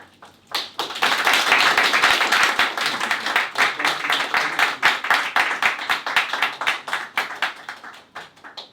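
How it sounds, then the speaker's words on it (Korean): A congregation claps together at an Easter Sunday church service for students and parents, a dense burst of hand claps that starts abruptly, stays loud and steady, then breaks into more separate rhythmic claps before fading. "또 한 번 박수 부탁드리겠습니다."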